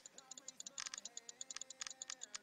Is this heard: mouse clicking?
yes